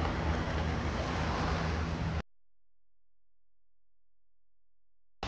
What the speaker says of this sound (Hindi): आवाज पानी की आवाज सुनो खाली